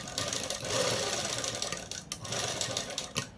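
A sewing machine stitches a dress at steady speed, its fast mechanical whir close and continuous with a brief pause partway through, and no talking.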